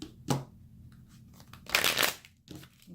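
Quick riffling bursts of tarot cards being shuffled, a short flutter early and a louder, denser riffle in the middle, then a softer brush at the end.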